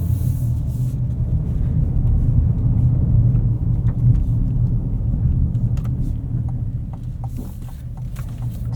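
Steady low engine and road rumble from a 2026 GMC Terrain AT4 SUV driving on a street, heard from inside the cabin, continuous with a few faint clicks and no talking.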